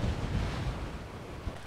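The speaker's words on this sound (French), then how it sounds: "je suis vraiment face au vent" Strong headwind buffets a cyclist's microphone while bikepacking in the Morvan, a steady low rumbling roar with gusty surges throughout and no other sound.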